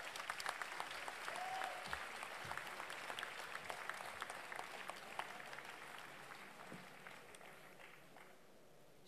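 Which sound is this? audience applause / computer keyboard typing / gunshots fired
audience applause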